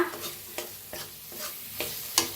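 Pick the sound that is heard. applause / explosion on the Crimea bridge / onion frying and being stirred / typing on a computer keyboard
onion frying and being stirred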